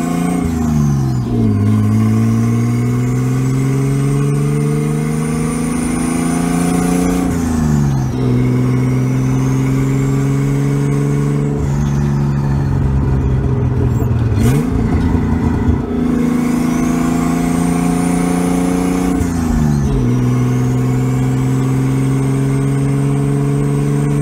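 A right-hand-drive Nissan 240SX with an open downpipe drives along, its engine droning loudly and rising through repeated revs, each climb ending in a sharp drop at the shift before pulling again.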